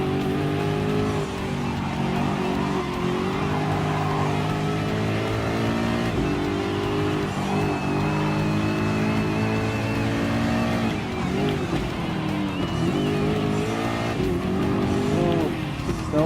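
Ford GT LM Spec II race car in Gran Turismo Sport, its engine note holding loud and steady and rising and falling with gear changes, with brief tire squeals through the corners, in a custom race heading toward a hairpin.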